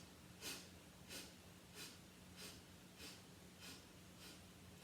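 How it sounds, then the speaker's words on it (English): A person doing a breathing exercise sniffs in short, evenly spaced bursts through the nose, about seven quiet sniffs in a steady rhythm, close and faint. "we're going to exhale and 10 sniffs out the nose"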